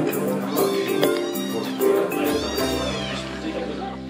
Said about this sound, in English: There were so many adorable little kittens at that cafe.